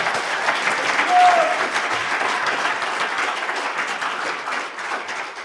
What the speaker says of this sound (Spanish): si vas a aplaudir al Señor, apláudele de verdad